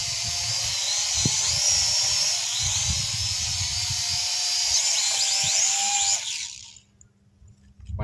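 An XG 183 drone's propellers whine and buzz loudly and steadily with a high-pitched hum during landing, then cut off abruptly as the motors stop, leaving near silence.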